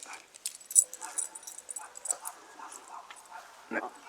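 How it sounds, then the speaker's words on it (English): A small dog yaps repeatedly in the distance next door by a river, with sharp high-pitched barks scattered over faint background noise and a person speaking briefly. "frickin' yappy dog up there."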